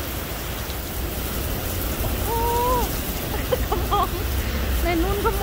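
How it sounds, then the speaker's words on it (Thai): Rain and hail falling in Perth, a steady broadband hiss of drops filling the whole clip, with a voice speaking and exclaiming over it. "วันนี้ฝนตกโอ้ลูกเห็บตก"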